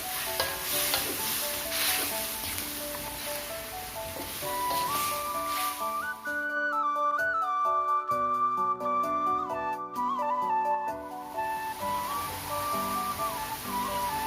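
Cucumber slices stirred with salt and stock seasoning in a hot frying pan sizzle steadily up close, a spatula scraping through; partway in, background music with clear tones rises over the frying.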